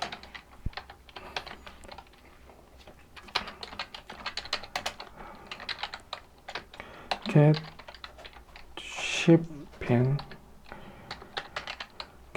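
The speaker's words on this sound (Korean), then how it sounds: "타이핑을 하겠습니다" Rapid typing on a computer keyboard, steady irregular clicks running throughout at close range, with someone speaking briefly over part of it.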